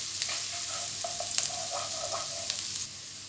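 Onions and garlic frying in a pan for bistek bangus, a continuous soft sizzle with a few light stirring clinks, close up and fairly quiet.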